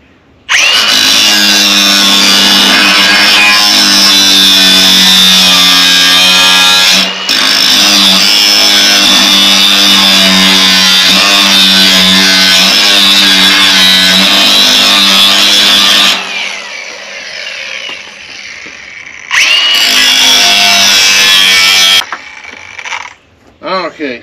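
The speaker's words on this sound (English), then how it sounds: "get that all cleaned up, get all that old weld off, so I'm ready for the new" A power tool, likely a grinder, strips old weld from bent angle iron under a trailer, whining loudly and steadily for long runs, with a short pause, then a final burst before cutting off.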